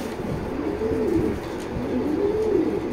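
Racing pigeons coo softly nearby, two rising-and-falling throaty calls over a low background murmur.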